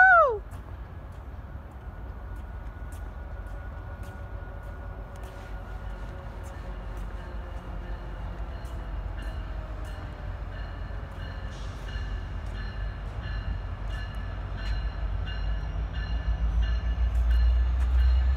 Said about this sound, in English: here comes the sounder train